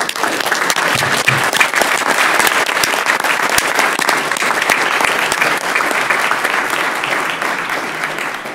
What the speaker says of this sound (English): So let's give Judge Hansford a round of applause.